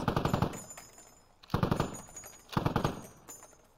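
Three loud bursts of rapid automatic gunfire in a military video game, each a quick rattling string of shots followed by a brief pause, with a faint high electronic tone in the background.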